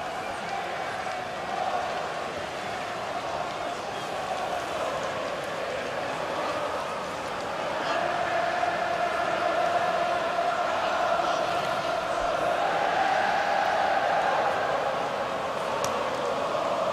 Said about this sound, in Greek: Οι φίλοι της Λίβερπουλ τραγουδούν στις εξέδρες.